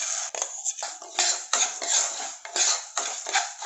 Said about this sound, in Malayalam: ചെറുപരിപ്പ് ഒന്ന് വറുത്തെടുക്കാം.